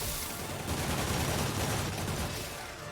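Enemy gunfire rattles in Spider-Man Remastered, a sustained volley of rapid shots blending into a dense, noisy barrage that stays loud and steady before easing slightly at the end.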